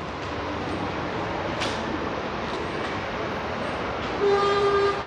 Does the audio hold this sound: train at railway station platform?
yes